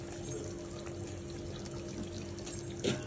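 Water is poured into a pot of rice and masala chicken for pulao, a steady soft splashing stream with a brief louder gush near the end.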